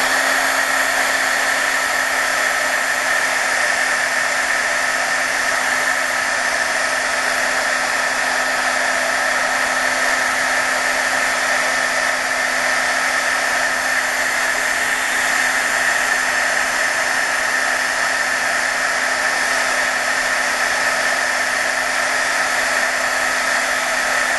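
A hair dryer blows steadily on watercolor paper to dry masking-fluid work, a loud continuous whirring hum with a high airy hiss that holds unchanged throughout, with no talking.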